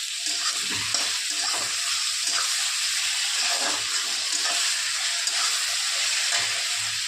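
Bombay duck dusted in flour frying in hot oil in a pan for a dry Maharashtrian dish: a steady, loud, close sizzle and crackle running throughout, with faint stirring and no talking.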